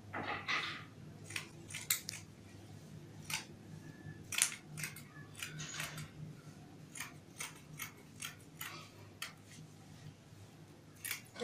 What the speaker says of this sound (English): now I'm going to cut it out